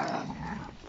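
A Doberman gives a low, continuous rumbling growl at close range, steady and fairly loud for about a second, with no voices over it.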